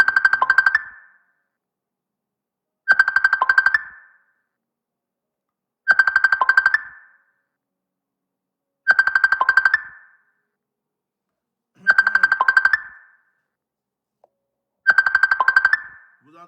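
A mobile phone ringtone plays as six identical bursts about three seconds apart, each a short bright melodic phrase, fairly loud and alone, cutting through a gathering where a preacher is leading prayer.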